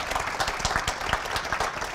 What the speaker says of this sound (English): Let's have a big round of applause for Patrick